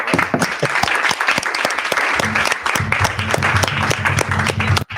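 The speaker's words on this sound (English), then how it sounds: "give yourselves an applause and a spontaneous one" Applause from an audience of datathon teams fills the room, a dense steady patter of many hands lasting throughout, with a low hum of voices underneath.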